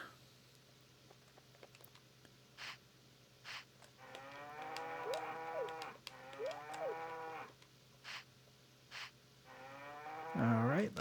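Cattle moo in the Nintendo 64 farming game Harvest Moon 64, several drawn-out, rising and falling moos in succession over a quiet background with occasional soft game clicks.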